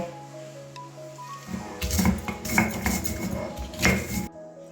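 Garlic, bori and dried chilli crushed on a stone grinding slab with a stone pestle, a burst of rough scraping and knocking strokes after a quiet opening, ending abruptly.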